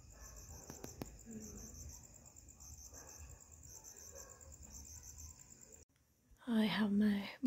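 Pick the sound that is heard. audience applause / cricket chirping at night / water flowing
cricket chirping at night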